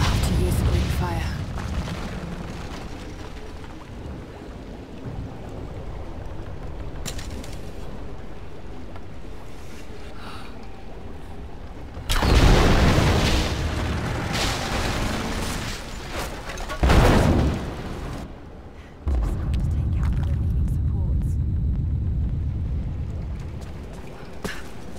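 Greek fire vessel exploding to topple an unstable statue in Rise of the Tomb Raider, heavy booming blasts and rumbling debris, loud bursts around the middle, with a voice speaking over parts of it.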